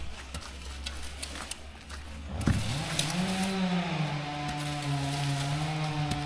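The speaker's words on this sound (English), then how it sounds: "I think it's a chainsaw." A chainsaw at a bush campsite starts abruptly after a few seconds and then runs steadily at a held, buzzing pitch, fairly close and loud, with faint clicks and ambience beforehand.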